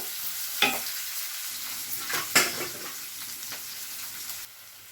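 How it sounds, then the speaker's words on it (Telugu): Onions and green chillies fry in a pan for a fish (nethallu) tomato curry, giving a steady sizzle broken by a few sharp stirring scrapes, close and moderately loud, with no voices. "ఉల్లిపాయలు వేగిపోయండి"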